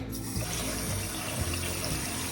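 Hot water runs from a sink tap in a steady close stream, a continuous rush with slight gurgling variation and no voices over it.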